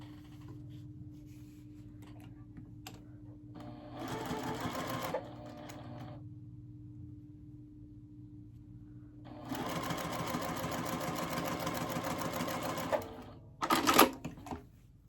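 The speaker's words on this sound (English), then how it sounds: "So we're going to sew this here." A sewing machine stitches cotton quilt triangles in two runs, a short burst and then a longer one of rapid, even needle clatter, separated by a low background hum, with a brief clunk at the end.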